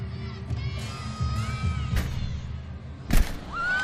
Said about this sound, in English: the crowd at UCLA went, oh